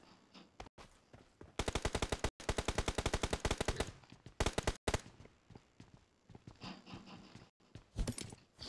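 Gunfire in the mobile battle-royale game PUBG Mobile: rapid bursts of automatic fire in several sharp volleys with brief gaps, then scattered single shots and footsteps, loud and close.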